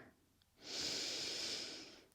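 A long, steady exhale during a slow yoga stretch, a soft airy rush that swells in and holds for over a second before fading, close and fairly quiet with no talking.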